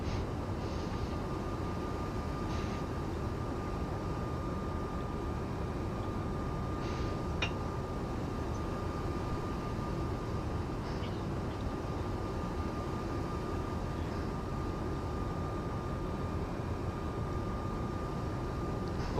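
Airbus A220 jet engines in a flight simulator game, a steady, even droning roar with a thin constant whine on top, holding unchanged throughout with a few faint clicks, no talking.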